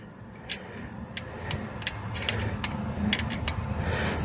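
A ratchet clicks in short bursts while valve clearance adjustment screws are tightened on an Austin Allegro 1300 Estate engine, the sharp metallic ticks close and moderately loud with faint mechanical rustling between.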